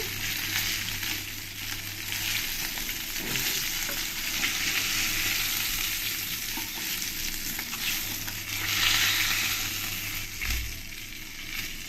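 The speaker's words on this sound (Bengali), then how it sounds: "আমি একটু কড়া কড়া করেই ভেজে নিয়েছি" Koi fish fry in oil, a loud, constant sizzle heard up close with intermittent stirring and turning noises and small bursts of spattering.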